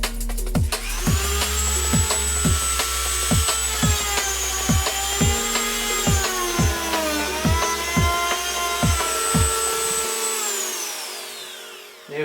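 Power saw cutting a custom acrylic (Plexi/Perspex) PC base plate, a steady loud whining buzz with rapid regular stroke pulses for about ten seconds, then stopping abruptly.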